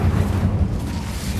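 Fiery Incendio spell burst in Hogwarts Legacy on PS5, a dense rumbling whoosh of flame that roars steadily for the whole moment, loud and close amid combat.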